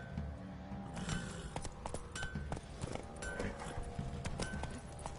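Roach, a horse in The Witcher, trots with a steady, even clip-clop of hooves at close range. Faint background ambience sits beneath the hoofbeats.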